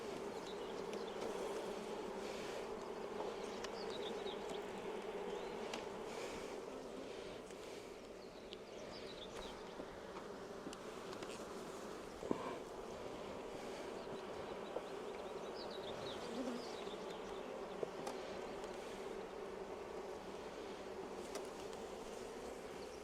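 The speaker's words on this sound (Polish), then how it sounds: "Pszczoły zareagowały na zgniecenie" Honeybees swarm and buzz in an opened hive during an inspection, a steady dense drone that never lets up, with a few brief clicks and knocks from handling the frames.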